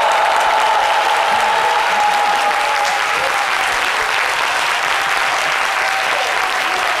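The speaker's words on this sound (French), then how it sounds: "Des applaudissements renouvelés pour cette belle ouverture qu'ils viennent de nous offrir." Audience applause after an opening circus performance at a show in Abidjan, a dense, loud, sustained wash of clapping from a large crowd that carries evenly from start to finish without pause.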